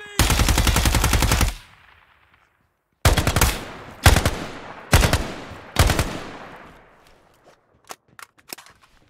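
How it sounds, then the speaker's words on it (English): Automatic gunfire in the tactical shooter Ground Branch, set on an oil rig: a long sustained burst, then four shorter loud bursts with echoing tails, followed by a few faint single shots. "Shooting enemy!"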